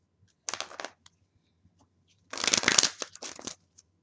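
A deck of Wisdom for Healing tarot cards is shuffled in two quick bursts, a short riffle followed by a longer, louder flurry of flicking cards, close up in an otherwise quiet room.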